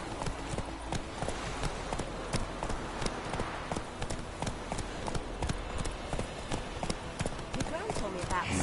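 Horse hooves clip-clop at a brisk, even pace in The Witcher 3 video game, a steady run of sharp close hits while voices talk over them.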